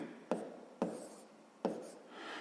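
Pen strokes writing out numbers by hand for a fifth-grade math exercise, a few sharp taps and scratches spaced about a second apart, close and fairly quiet.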